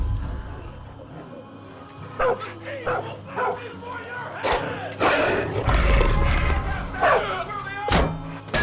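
A dog in the video game Far Cry 5 barks in several loud, sharp bursts with whimpers between, alongside spoken dialogue and low background game sound.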